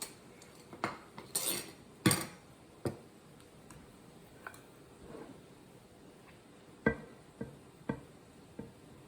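Kimchi cabbage pounded down into a jar to release its juice, making sparse, irregular knocks and clinks of glass and utensil, close and fairly quiet with no talk.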